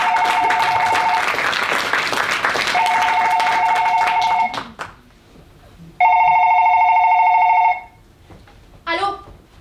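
A telephone rings on a theatre stage in a play, in repeated electronic bursts with pauses, loud and close, first under audience clapping and then alone before a voice answers.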